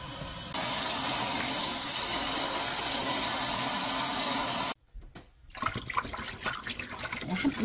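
Boiled butterbur greens rinsed under running water: a steady, loud gush from the tap for several seconds, then it cuts off and gives way to splashing and handling sounds in the sink.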